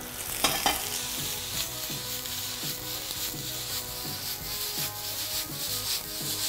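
Stuffed onions are swirled in a pan of hot olive oil, giving a continuous fizzing sizzle with rhythmic rubbing and scraping as the pan is shaken, fairly quiet and with no talk.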